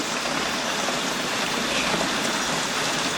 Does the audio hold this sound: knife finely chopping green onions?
no